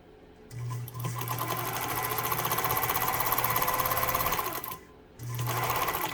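A Pfaff 230 sewing machine runs in two bursts of rapid, even stitching, a close mechanical whir with a low motor hum, pausing briefly before starting again.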